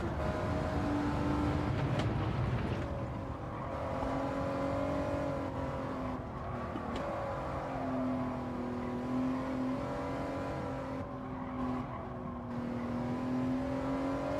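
Honda NSX Type R02 GT3 race car in a racing video game, its engine droning steadily with a sustained tone that rises and falls through gear changes, loud and continuous without talk.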